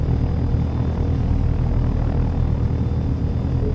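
Helicopter engine in a flight-simulator game as the collective is raised for lift-off, a loud, steady, low rumbling drone with a dense engine roar that holds constant throughout.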